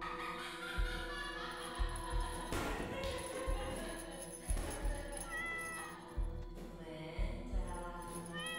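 A cat meows repeatedly in the horror game Dreadout 2, several short rising mews spread over a dull backdrop broken by regular soft thumps, like footsteps.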